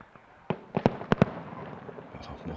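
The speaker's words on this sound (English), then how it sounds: "More fireworks in the background." Fireworks go off in the distance behind a nighttime T10 cricket match in Portugal, giving a handful of sharp cracks and pops, three in quick succession, over low crowd and ground noise.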